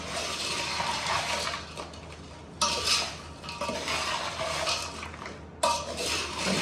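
Masala ingredients are stirred together in a bowl, giving close, soft scraping and clinking of a utensil against the bowl in uneven bursts with brief pauses between.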